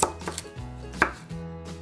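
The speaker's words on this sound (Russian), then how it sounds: "Порежу еще в салат свежий огурчик." A knife chops fresh cucumber on a cutting board for a salad, a few sharp, close thuds at irregular intervals with nothing else in between.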